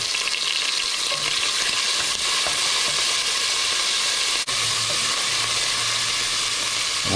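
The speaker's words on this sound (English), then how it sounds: "I've just got one rasher of bacon, just middle sort of cut bacon, and I'll throw that in, chop it up reasonably finely." A single rasher of middle-cut bacon sizzles steadily in a pan, a dense, even crackling hiss that carries on without pause and without any voices.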